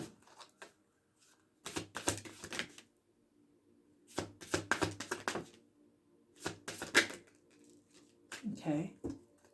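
Tarot cards are shuffled in three short, crisp bursts separated by pauses, with a voice speaking briefly near the end.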